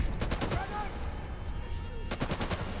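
Rapid bursts of gunfire in the video game 007 First Light, loud and close, with two clusters of sharp repeated shots separated by a busy stretch of game noise.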